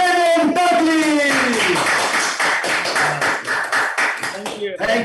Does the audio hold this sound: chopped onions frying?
no